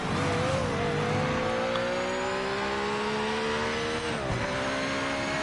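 A race car engine in a racing video game, a Japanese GT500 car, holds a steady high-pitched drone with smooth rising and falling revs, loud and continuous throughout with no talk.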